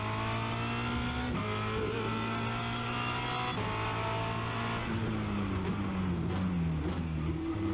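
A Formula Renault 2.0 race car engine at Spa Francorchamps, heard from onboard as a loud, continuous high-revving whine that drops in pitch with downshifts and braking before climbing again.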